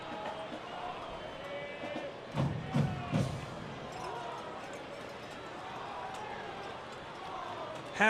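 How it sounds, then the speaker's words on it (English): A soccer stadium crowd at a Chattanooga FC vs. Chattanooga Red Wolves match in Tennessee makes a steady, fairly distant roar with a few dull thumps. A voice talks over it. "A huge crowd in Southeast Tennessee."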